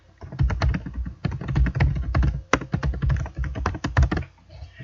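Computer keyboard typing during a website login, a quick, steady run of close, clicky keystrokes in bursts with brief pauses, no talking.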